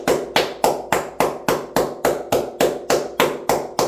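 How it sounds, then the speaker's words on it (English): Evenly paced, sharp claps repeat about three times a second, close and loud with no voices. "round of applause for Tua coming back"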